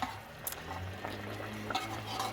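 Raw banana curry stirred in a pan, a soft continuous scraping with small utensil clicks over a low hum, steady and close, no voices.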